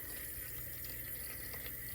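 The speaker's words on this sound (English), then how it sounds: "Then I'm gonna go get some water in this and stir it together." Tap water runs steadily into a paint pail holding creamy white paint, a constant close hiss and gurgle with no pauses.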